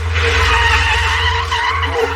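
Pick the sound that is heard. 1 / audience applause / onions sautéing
1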